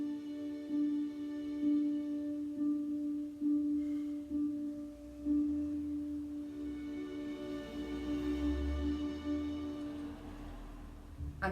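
A repeated single pitch opens Saint-Saëns' Danse Macabre, imitating church chimes striking midnight, sounding steadily and softly over a faint orchestral backdrop.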